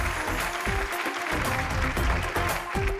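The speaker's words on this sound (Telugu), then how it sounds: "విన్నారుగా చప్పట్లు?" An audience claps steadily through a Telugu TV serial scene. The applause is dense and continuous, with a faint tonal hum beneath it and no talking.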